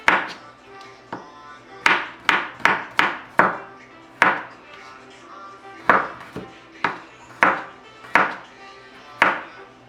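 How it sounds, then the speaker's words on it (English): Knife blade chopping and slicing garlic on a board: a run of sharp, close taps in quick bursts, some single strikes and some clustered, over a quiet kitchen background. "The garlic, I just want to slice it."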